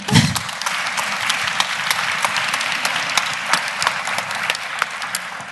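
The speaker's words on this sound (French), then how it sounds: "Oui, vous pouvez les applaudir" Sustained crowd applause, many hands clapping steadily and fairly loud throughout, with no talking.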